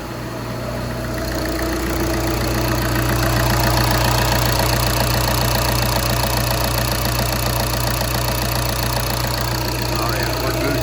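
A TDI diesel engine idles steadily after starting, its low rumble and rhythmic clatter continuous and close, fresh from injector replacement.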